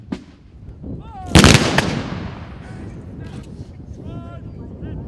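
Washington's Life Guard reenactors fire a loud musket volley in the open, one sharp crashing blast that rolls away into a long echo, with shouted commands before and after.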